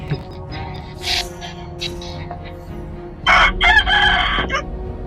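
A rooster crows loudly in the Mobile Legends video game, a long cock-a-doodle-doo call that rises near the end of the clip over busy game sound effects.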